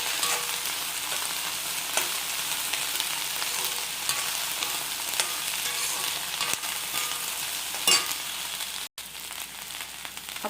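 Okra (bhindi) sizzles steadily as it fries in a pan for a Tamil-style poriyal, with faint scraping stirs breaking through the continuous crackle and no voices.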